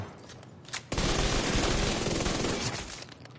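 Rapid sustained automatic gunfire in The Division 2 aimed at an elite enemy's head, a dense loud burst starting abruptly after a brief pause and running for over two seconds before tapering.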